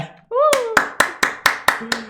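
Applause in a Roblox Squid Game session: about seven sharp, evenly spaced clap bursts ring out loud and close, led by a brief rising synthetic tone at the start.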